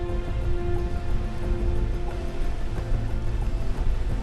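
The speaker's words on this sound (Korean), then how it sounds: "높은 파도와 함께 비까지 내리기 시작하는데요." Heavy rain falling with high waves at sea aboard a Vietnamese fishing boat at night, a dense continuous hiss and wash over a steady low engine drone, close and unbroken.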